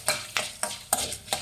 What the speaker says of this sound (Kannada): ಲೋ ಫ್ಲೇಮಲ್ಲಿಟ್ಟೆ ಎಲ್ಲ ಫ್ರೈ ಮಾಡಬೇಕು.